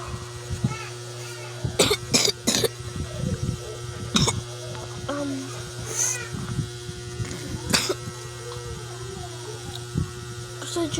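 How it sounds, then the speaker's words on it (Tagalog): Repeated sharp coughs from a person, several bursts scattered over a steady electrical mains hum, close and fairly loud, with some talking between them. "Sadya guys, puro ako ubo."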